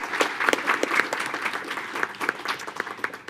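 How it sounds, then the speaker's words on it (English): Audience applause at a school board meeting, a crowd clapping in a dense, continuous patter of many hands, moderately loud and steady throughout, with a few louder individual claps standing out. "let's give a round of applause for that"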